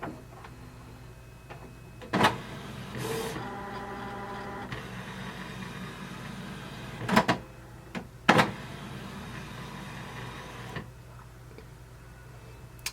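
A Canon TS3329 inkjet printer powering up after being switched on: a few sharp mechanical clunks and clicks separated by stretches of low whirring and motor hum, nearby and otherwise alone.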